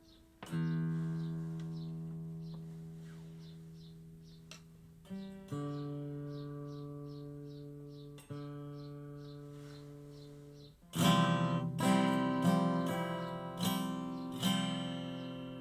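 Guitar played through an amp with a reverb flanger effect, a handful of sustained, ringing chords struck at intervals with long swirling decays, growing louder and busier with quick repeated strums near the end.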